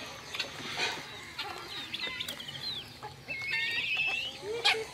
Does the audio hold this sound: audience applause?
no